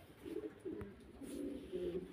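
A pair of Black Lahori pigeons gives soft, rolling coos in several short bursts, close but quiet, with a brief sharp knock partway through.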